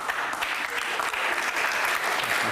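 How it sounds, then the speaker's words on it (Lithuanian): An audience applauding at a Lithuanian talent show audition, with steady, dense clapping filling the hall throughout. "O kodėl jie ploja?"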